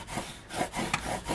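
Burnishing tool rubbing back and forth over glued paper layers on a floral magnolia card, a soft, close scraping in short repeated strokes, fairly faint and alone.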